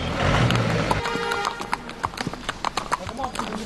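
Horse hooves clip-clop steadily on a mountain trail during a climb of Siguniang Mountain, the close, rhythmic hoof strikes running under continuous voices and background noise.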